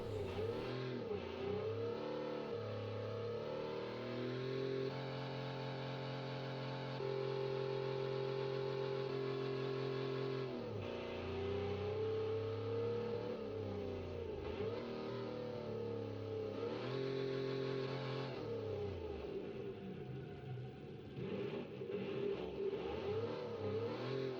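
A car engine in the BeamNG driving game revs and climbs through gears, holding strained high-rpm tones with shifts and dips, loud and continuous throughout.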